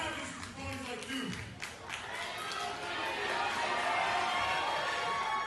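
A wrestling crowd of about 400 in a small building claps and cheers in a continuous murmur that swells louder toward the end, with a voice talking early on.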